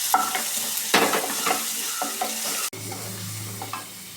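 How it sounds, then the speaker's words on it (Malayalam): Crushed garlic and onion fry in oil with curry leaves, a loud close sizzle broken by quick stirring scrapes that continues without pause after a short cut midway. "ഇതിലേക്ക് നമുക്ക് ചതച്ച് വെച്ച വെളുത്തുള്ളി, ഉള്ളി എല്ലാം കൂടെ ഒന്ന് മൂപ്പിച്ചെടുക്കാം"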